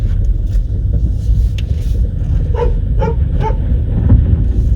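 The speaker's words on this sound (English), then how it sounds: "Angry dog." A dog on a chain barks angrily a few times in the distance over a constant low engine rumble at a campsite car park in Hungary, the barks coming in a short cluster.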